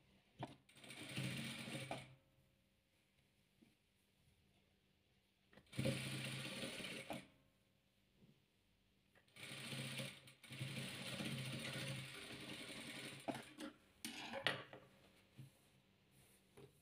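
A sewing machine stitching patchwork quilt pieces runs in three or four bursts of a few seconds each, close and clear, with quiet pauses between while the fabric is repositioned.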